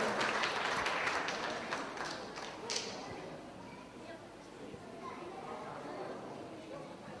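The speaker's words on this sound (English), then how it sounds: "let's give a mighty clap offering to our God Almighty" A church congregation at an anniversary service offers a loud burst of clapping that swells and then thins into scattered claps, with voices and children's chatter mixed in beneath.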